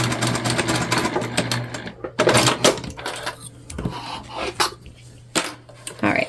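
A sewing machine runs in short bursts, stitching a 3/8 inch seam along the lining of a pouch made from a dollar store dish drying mat, with clicks and handling sounds between runs.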